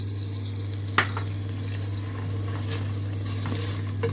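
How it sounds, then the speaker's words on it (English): A seasoned meatball paste with paprika and colored capsicum is stirred in a bowl, with soft intermittent scraping and one sharp knock over a steady low hum. "And then we're going to stir just like that."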